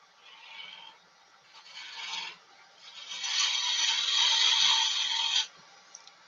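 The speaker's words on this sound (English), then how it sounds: "I think I'm probably going to go onto my spindle gouge" Spindle gouge cutting a petaled wooden flower on a woodturning lathe, giving a raspy scraping hiss in short bursts, then a longer, steady cut before stopping, close and moderately loud with no talk.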